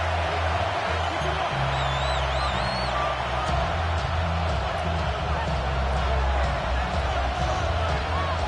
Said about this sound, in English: The crowd, as usual, firing up.